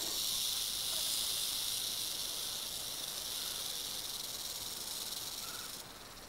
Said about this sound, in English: the rattle is one of the most effective defenses in nature, giving fair warning in plenty of time.